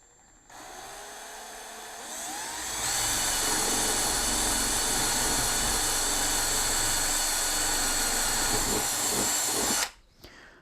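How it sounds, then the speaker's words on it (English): A power drill with a slightly blunt wood bit whines steadily at high speed, rising in pitch as it bites into wood, boring straight down continuously for about nine seconds before cutting off abruptly. "then I drill straight down"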